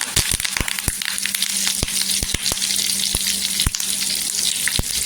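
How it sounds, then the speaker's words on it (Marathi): Fresh curry leaves hit hot oil with cumin and mustard seeds for padwal bhaji. They set off a loud, continuous close sizzle dotted with sharp popping crackles throughout. "इथे आहे ना फ्रेश कढीपत्ता टाकायचा।"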